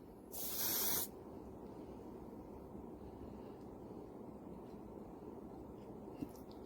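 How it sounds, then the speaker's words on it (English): A can of body spray gives a single sharp hiss lasting about half a second, close and loud next to a quietly humming Winix 5500-2 air purifier, whose low steady drone continues alone afterward. "This is just some body spray."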